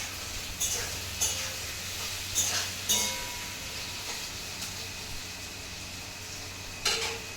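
Potol (pointed gourd) and potato curry with spices frying in a pan, a continuous sizzle broken by several sharp stirring scrapes and clinks against the pan.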